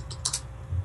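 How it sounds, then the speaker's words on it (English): Typing on a computer keyboard, with a few quick close key clicks in a short burst over a low hum. "All right, so I'm gonna type in Swift key"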